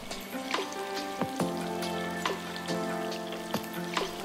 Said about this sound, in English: Drop in your walleye cheeks and fry.